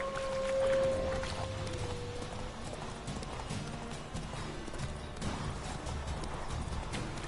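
Horse hooves clip-clopping in The Witcher 3 on PS4, a rapid steady beat of soft thuds with a brief tonal game sound near the start, fairly quiet and alone.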